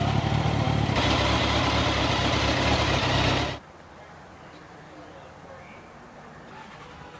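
A motorbike engine runs with a loud, steady rumble that suddenly cuts off after a few seconds, leaving quiet background where faint voices can be heard.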